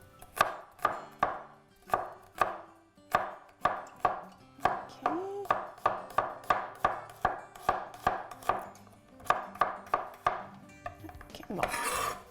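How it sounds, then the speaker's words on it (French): A knife chops ingredients finely on a cutting board for pork dumpling filling, in a steady run of about twenty close, sharp thuds. It pauses briefly near the end before a final scrape. "Je vais hacher vraiment finement."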